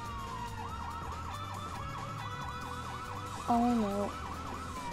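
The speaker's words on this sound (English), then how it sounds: "Gotta get those sirens on." Police car sirens wail in the Lego City Undercover video game, a steady repeating yelp cycling throughout with a brief louder horn-like blast near the end, while a person briefly exclaims.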